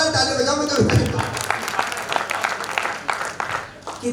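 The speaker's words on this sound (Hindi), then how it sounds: "आप एक बार जोरदार ताली बजाओ मुझे।" Audience applause at a Hindi poetry recital, a dense wash of clapping that rises and then gradually fades, with a voice talking over it.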